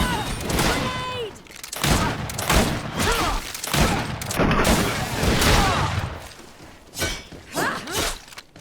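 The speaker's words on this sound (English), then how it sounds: "Watch out! Grenade!" Combat in the GreedFall video game: a grenade blast and bursts of gunfire crack and boom in rapid succession, with shattering impacts and brief shouted voices between the loud, close hits.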